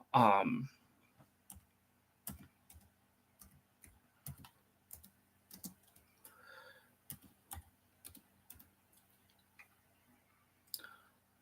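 Computer keyboard typing, with irregular clusters of crisp key clicks heard close and alone in a quiet room after a brief voice at the start.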